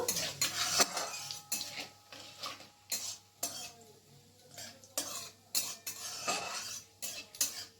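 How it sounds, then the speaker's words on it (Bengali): Dried chillies, a bay leaf and whole cumin being stirred in hot oil for chana dal tempering, with rapid metal spatula scrapes and clinks against the pan in uneven bursts over a light sizzle. "এরপর এগুলোকে 2 সেকেন্ডের মতো আমি নাড়াচাড়া করে নেব।"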